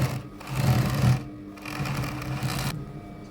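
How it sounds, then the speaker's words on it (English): An overlocker sewing machine stitches and overlocks fabric seams for an elastic-fitted sheet, whirring loudly and close in two rapid motor bursts separated by a brief lull. "This one is stitching and overlocking at the same time."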